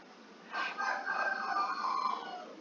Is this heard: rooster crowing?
yes